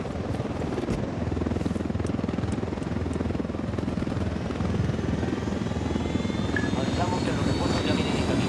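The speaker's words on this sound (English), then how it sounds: "I requested a vehicle from the rebels. Chopper." A helicopter in the video game Ghost Recon Wildlands flies with a steady, dense rotor and engine roar that fills the whole stretch at constant loudness, with a faint voice underneath.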